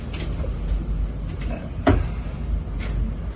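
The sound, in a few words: cabinet door opening and closing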